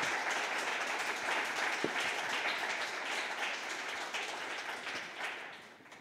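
A live audience at the Norwid Festival 2021 gala breaks into dense, steady applause that carries on for several seconds, then thins slightly at the end.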